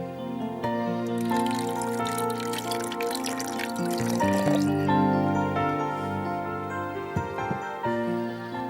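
Half a glass of water poured into papaya paste, yogurt and honey for a papaya lassi, heard as a close, continuous trickle and splash over several seconds without talk.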